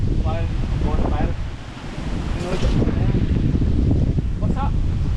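Strong wind blowing outdoors at Cavinti, Laguna, near water during light drizzle, roaring and buffeting the microphone steadily throughout while people talk over it.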